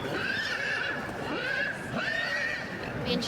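Several horses whinny and neigh in a show ring at the Royal Welsh Show, a few rising calls over a steady crowd-like background, with faint hoof clip-clop.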